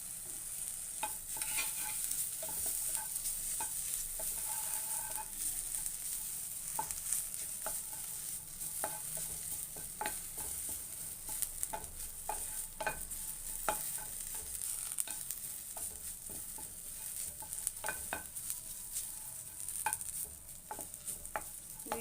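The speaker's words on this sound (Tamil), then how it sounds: "இப்போ கருவேப்பிலையும் சும்மா வறுத்துக்கலாம்." Curry leaves dry-roasting in a pan without oil for homemade idli podi, with a crackly, rustling sizzle that holds steady through the whole stretch and frequent scraping stirs, close up and moderately quiet, with no one talking.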